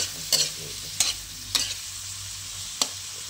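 Balatong (mung beans) with meat being stirred in a pan, giving several sharp scraping clacks of a utensil at irregular intervals over a steady low sizzle of frying, close and fairly loud, with no voices.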